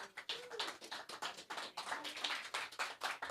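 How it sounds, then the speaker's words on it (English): A small audience at an outdoor Pumpkins & Peace gathering in New Jersey claps in sparse, uneven bursts, individual hand claps distinct and fairly close, with faint voices and a bird call in the background. "You can clap now if you want to."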